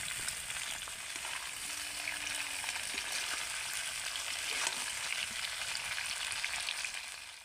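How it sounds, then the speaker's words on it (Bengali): Raw mango pieces for pickle sizzle steadily in oil while being stirred, giving a dense, even frying hiss with faint scraping throughout, close and unbroken, with no talking. "এইভাবে নেড়ে নেড়ে ভেজে ভেজে যদি আমের মধ্যে যে জলটা থাকে সেই জলটাকে মারিয়ে নেওয়া যায়"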